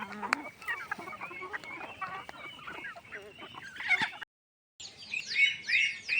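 Chickens in a freshly cleaned backyard coop cluck and chatter continuously, with soft clucks and higher squawks and chirps at moderate distance, a brief dropout partway through, then more excited clucking.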